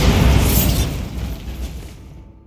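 Bombarda spell blast in the Hogwarts Legacy video game: a loud, close explosive boom with a broad crackling burst that decays over about two seconds, then cuts to silence.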